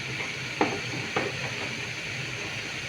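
Ash gourd curry sizzles steadily in a pan as it is stirred, with two sharp utensil scrapes against the pan over the continuous frying hiss, close and with no talk.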